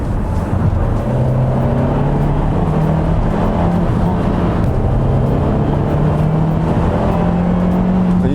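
A Hyundai Kona gasoline car accelerating hard, its engine drone rising steadily in pitch with a loud, continuous cabin-heard roar and tire and wind noise, no talk over it.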